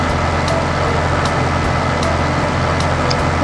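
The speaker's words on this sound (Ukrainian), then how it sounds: "Бистрій трактор." A tractor engine in the video game Farming Simulator 16 drones steadily throughout, a constant low rumbling hum with a few faint clicks on top and no talking.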